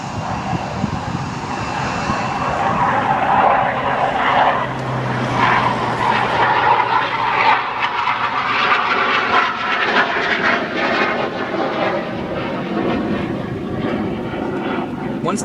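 A Delta Airlines Airbus jet roars on takeoff from El Paso, a broad, rumbling engine noise building and holding loud across the clip, with voices talking underneath.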